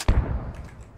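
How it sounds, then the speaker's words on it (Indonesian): A single grenade explosion in the video game Squad, one sharp, heavy, booming thud up close followed by a short decaying rumble. "Gua granat ya."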